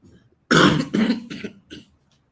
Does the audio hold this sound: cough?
yes